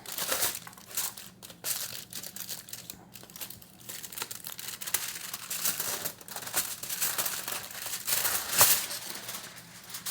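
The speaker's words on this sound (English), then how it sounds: "pulled them off the foil" Aluminum foil crinkles and tears as it is peeled away from a batch of baked granola bars, with continuous close crackling rustles that swell and fade over several seconds.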